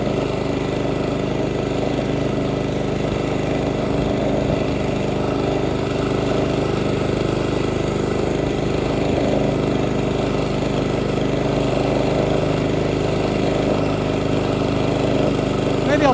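A John Deere JX-75 mower's small engine drones steadily and evenly throughout, a continuous low mechanical hum with no pauses, fairly close and loud.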